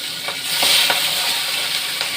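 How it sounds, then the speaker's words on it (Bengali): Cumin seeds, bay leaf and dried and green chillies hit hot oil for a fish curry with bottle gourd and potato, a loud steady sizzle with faint stirring clicks, close and continuous, no talking. "এবার জিরের ফোড়ন, তেজপাতা, শুকনো লঙ্কা, কাঁচা লঙ্কা দিয়ে একটু টমেটো দিয়ে"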